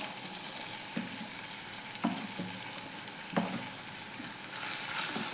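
Crushed small onions (shallots) frying in a pan for a spicy fish curry, a steady hiss of sizzling oil with a few sharp stirring scrapes at intervals, close and alone.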